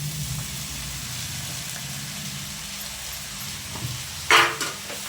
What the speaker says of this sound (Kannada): ಟೊಮೊಟೊ ಎಲ್ಲ ಫ್ರೈ ಆಗಿದೆ ಈ ಟೈಮಲ್ಲಿ ಹಾಗಲಕಾಯಿ ಸೇರಿಸ್ಕೊತಾ ಇದ್ದೀನಿ